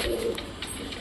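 Pigeons coo softly and close by, a brief low murmuring call with no talk over it.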